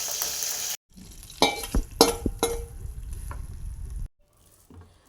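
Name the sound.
fenugreek, curry leaves and asafoetida sizzling in oil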